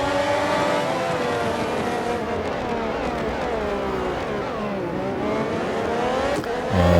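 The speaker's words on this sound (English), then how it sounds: "Gotta love the sound of F14" A Ferrari F14 T Formula One car engine in the racing game Real Racing 3 screams loudly, its pitch climbing and falling through gear changes with a sustained high-revving whine and a sharp shift near the end.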